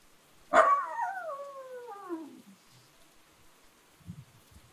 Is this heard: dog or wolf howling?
yes